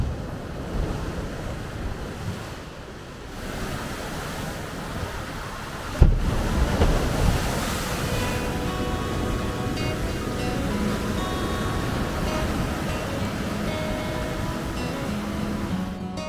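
Sea waves rolling in at high tide at Sands End on the Cleveland Way coast near Whitby: continuous surf wash with wind buffeting the microphone and a sudden louder surge partway through.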